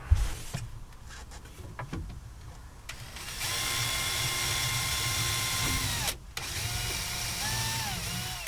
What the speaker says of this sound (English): I'll only put 1 screw in per leg